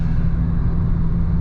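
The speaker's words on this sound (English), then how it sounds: "I might just get tired of all that whistling and air sound" A car fitted with a Forge induction kit runs with a loud, steady engine rumble and a continuous airy intake hiss throughout the short stretch, with no voices.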